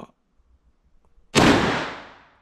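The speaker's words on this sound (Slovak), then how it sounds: "Takže prednou spúšťou budeme teraz strieľať dvakrát." A single loud shot from the front trigger of a Sauer & Sohn Model 3000 drilling combination gun, a sharp blast with a long decaying tail, preceded by quiet handling clicks.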